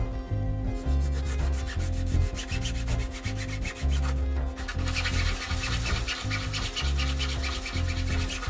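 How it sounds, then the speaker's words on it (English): A plastic surface being hand-sanded with sandpaper: steady, close back-and-forth scraping strokes in a continuous rhythm, with brief pauses between runs. "I might sand this down right here"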